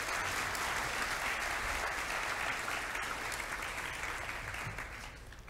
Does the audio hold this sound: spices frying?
no